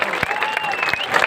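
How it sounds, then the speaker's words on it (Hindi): A crowd at a Hindi comedic poetry gathering (kavi sammelan) keeps up a dense, steady patter of applause, with a faint tonal whistle running through it. "एक बार भरपूर तालियां बजाइए"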